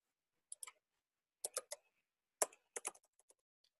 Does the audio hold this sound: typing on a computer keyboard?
yes